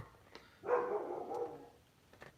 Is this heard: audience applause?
no